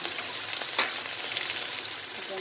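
Garlic fries in a pan for chicken kabsa, a constant close crackling sizzle with a light stirring scrape partway through.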